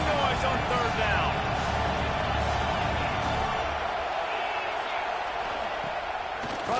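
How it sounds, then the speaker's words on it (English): A football stadium crowd roars on third down, a dense, steady wall of noise from start to finish with scattered whoops and cheers rising out of it. Voices are faintly mixed in. "This dog crowd is off the leash, and they are coming after them, bringing noise on 3rd down."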